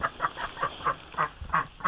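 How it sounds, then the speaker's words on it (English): Goose honks come fast and repeatedly in a farm setting where duck and goose eggs are being hatched, nearby and fairly loud, with seven or eight harsh calls in a steady run and no voices. "You heard the goose freaking."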